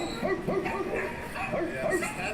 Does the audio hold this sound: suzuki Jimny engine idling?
no